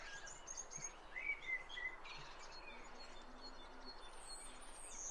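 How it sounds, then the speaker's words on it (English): A bird tweets in a tree, its faint, scattered chirps drifting as if moving away in a 3D soundscape over a steady outdoor background hiss. "You can hear the sound of the bird in the tree tweeting away,"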